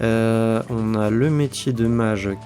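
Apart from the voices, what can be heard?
No everyday noises stand out.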